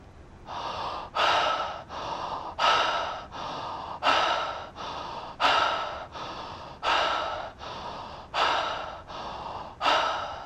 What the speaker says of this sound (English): So I move into something called connective breathing, and it's in and out of the mouth, and it goes something like this.